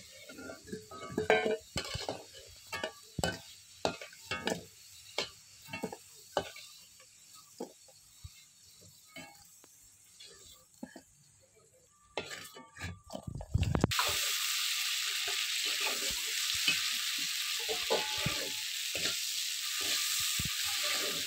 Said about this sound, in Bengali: এই আলু ভাজার তেলে আবার চিংড়ি মাছটা ভেজে নেব।